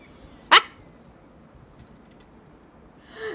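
A single sharp dog bark rings out indoors, loud and close, followed by quiet and a faint sound near the end.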